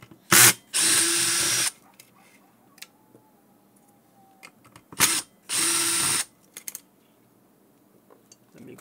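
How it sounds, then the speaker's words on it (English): Power drill backing screws out of a 48V AC golf cart motor controller, two loud close bursts of whirring, each led by a short sharp grab, with quiet gaps of small clicks and handling between. "let's get started removing 6 screws."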